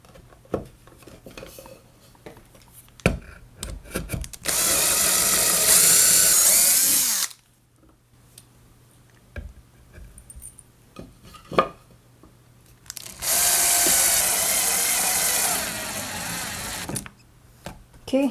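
A power drill drives screws into a vacuum cleaner motor assembly in two loud bursts of several seconds each, separated by quieter clicks and handling noises, with no talking.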